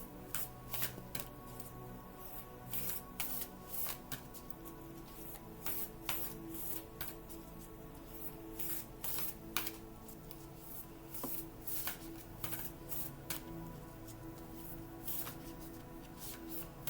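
A tarot card deck is shuffled close up, with repeated crisp riffling bursts and flicks of cards coming in quick irregular rounds, quiet and steady over the whole stretch with no talking.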